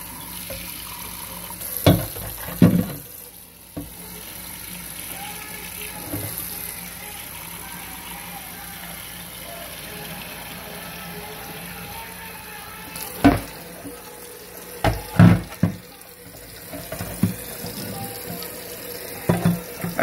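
A faucet runs water steadily for about twenty seconds in a workshop, a continuous close hiss broken by a few sharp knocks and clatters of something handled under the stream; no one speaks.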